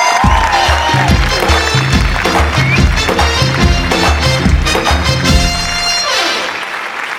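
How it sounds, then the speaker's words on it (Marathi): Audience applause and cheering for the winning team at a Marathi comedy show, a loud, steady roar of clapping mixed with rhythmic celebratory music that fades slightly near the end. "जोरदार टाळ्या."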